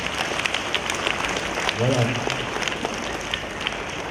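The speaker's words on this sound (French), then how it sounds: "On applaudit cet élève-là très fort" Steady applause from a crowd of children and adults for a pupil at a school Christmas party, a continuous patter of clapping under a voice speaking over it.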